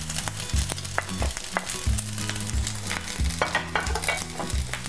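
Fried rice with vegetables and jambal roti salted fish stirred in a hot pan, a continuous sizzle with rhythmic scraping and clanking strokes of a spatula, close and loud with no voices.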